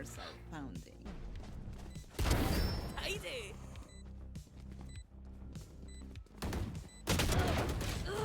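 Bursts of rapid gunfire from a video game crackle in clusters, with a voice talking over the action between volleys.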